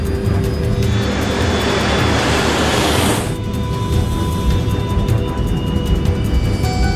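Comair Flight 5191 airliner on its takeoff roll, a loud steady engine roar with broadband rushing noise that swells for the first few seconds and then settles into a sustained drone.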